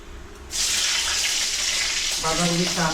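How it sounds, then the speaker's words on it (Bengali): A sudden burst of loud hissing sizzle from fish frying in hot oil starts after a half-second pause and continues steadily, with faint clinks and tones near the end. "মাছ ভাজা"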